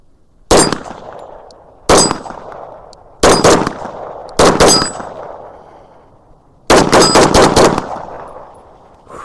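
A Metro Arms 1911 pistol fires in quick strings of loud, sharp shots, each followed by a ringing metallic clang, in several separate bursts with short pauses between them.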